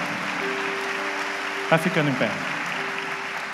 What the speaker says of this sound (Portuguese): Pode aplaudir o Senhor mais forte